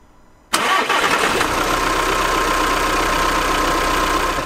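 A van engine cranks and catches after a short quiet moment, then settles straight into a steady, close, loud idle that runs to the end with no voices.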